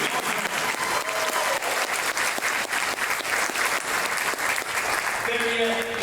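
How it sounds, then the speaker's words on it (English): A room at a chamber of commerce annual awards dinner breaks into sustained applause, dense even clapping from many hands that holds steady throughout, with faint voices mixed in near the end. "Please give him a large round of applause."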